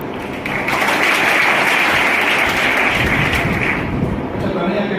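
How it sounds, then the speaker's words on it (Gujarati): A hall of school students at a values-education seminar bursts into applause, a loud sustained wash of clapping lasting several seconds before tapering off. "હવે તમે સૌને હું 2 સેકન્ડ માટે તાળીઓ પાડશો."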